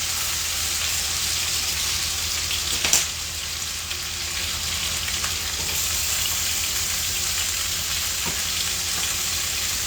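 Green peppers saute in a pan, a steady close hiss of frying with a few brief louder crackles, continuous throughout without talking.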